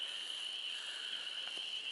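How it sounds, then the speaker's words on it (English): Frogs call at sunset outdoors in a steady, dense chorus of high, continuous trilling that holds at an even level throughout, fairly distant, with no voices. "Listen to the frogs."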